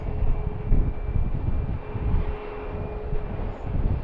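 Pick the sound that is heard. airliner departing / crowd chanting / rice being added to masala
airliner departing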